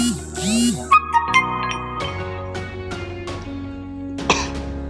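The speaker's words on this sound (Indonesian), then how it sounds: "sorry masih batuk-batuk" A person coughs and clears their throat over soft background music with sustained tones and chimes, a few brief harsh bursts near the start.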